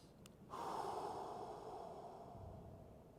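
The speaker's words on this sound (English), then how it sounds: "Taking some deep breaths there as I settle into this position." Deep breathing during a hamstring stretch: one long, close exhale that starts sharply and then fades slowly, with no talking.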